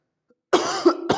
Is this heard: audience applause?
no